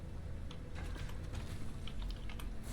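Soft, rapid keystrokes clatter on a computer keyboard at close range, an irregular stream of light taps over a low steady background hum.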